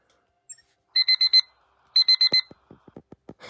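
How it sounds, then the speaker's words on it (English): After a faint blip, an alarm clock sounds two quick bursts of four electronic beeps, recorded on a BLU View 1 phone, followed by a string of soft clicks. "it sounds like someone recorded their clock going off"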